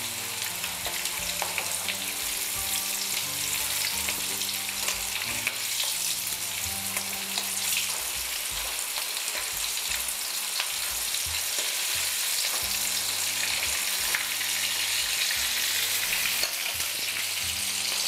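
Bitter gourd frying in hot oil, a steady crackling sizzle throughout with a low hum beneath, moderately loud and close.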